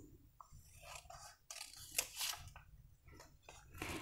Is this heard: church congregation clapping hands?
no